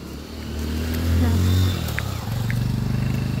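A motorcycle on a provincial road in the Philippines passes nearby, its engine rising briefly and then putting rhythmically, with people talking over it.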